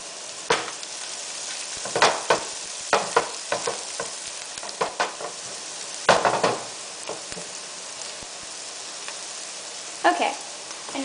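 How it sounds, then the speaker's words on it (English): Turmeric stirred into browned onions in a pan while cooking a walnut and meatball stew, giving a soft continuous sizzle broken by irregular scraping and clattering stirring strokes, with a voice talking at times. "Now I'm going to stir in the turmeric."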